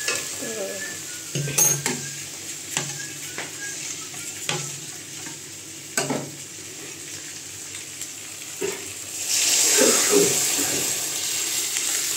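Fish head sautéing in a pan as lentils are added, with a steady sizzle under scattered stirring knocks and clinks, then a louder hiss and splash as the dal goes in near the end.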